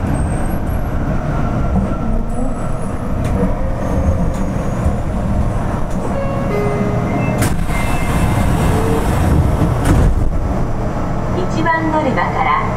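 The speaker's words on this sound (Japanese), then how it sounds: "1番乗り場から電車が発車します。" A Fukuoka City Subway train rumbles and pulls away from a busy underground platform, with beeping tones, a loud Japanese departure announcement and platform noise layered over the steady roar.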